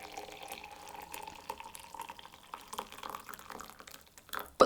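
Hot water trickles softly into a French press holding loose tea leaves, a faint, uneven pouring stream that ends in a sharp louder clunk.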